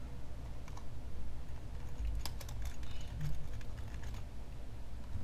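Keystrokes on a computer keyboard rattle steadily throughout, close and clear, with a few sharper clicks in the middle, while a low background hum sits underneath and no one speaks.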